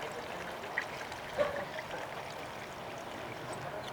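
Fuel drains from an aircraft fuel sump during a pre-flight inspection, a faint, continuous trickling pour with soft outdoor background noise and no talking.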